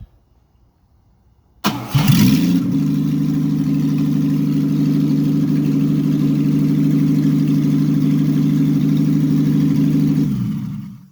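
A hot-wired 1962 Mercedes 220SE Coupe, its radiator still disconnected, cranks briefly after a moment of silence, then catches and settles into a steady, loud, even idle that runs for several seconds before cutting off abruptly.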